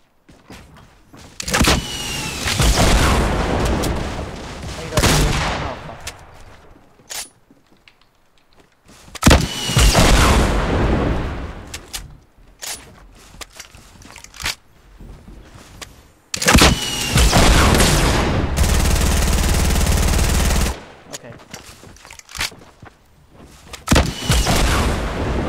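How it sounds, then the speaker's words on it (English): Rocket launcher explosions in Fortnite come in several loud bursts of rumbling blasts, separated by short quiet gaps. The last burst rings on into a sustained roar. "Oh yeah, I have rockets."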